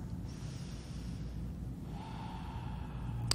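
A person breathes deeply while holding a yoga neck and shoulder stretch against a wall: soft, airy inhales and exhales, close and quiet over a low steady room hum, with no talking.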